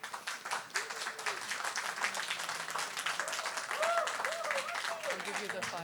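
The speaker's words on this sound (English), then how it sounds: "can I have a warm round of applause to welcome Michael?" A warm round of audience applause welcomes Michael Russell to a panel at the Key Biscayne Film Festival 2024, sustained clapping throughout with crowd murmur and some voices mixed in.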